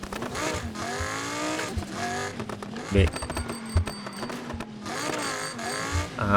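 A Lamborghini Huracan races around a track in the Need for Speed video game, its engine droning steadily and rising in pitch through several gear changes, with a harsh braking squeal near the middle, all under a commentator's voice.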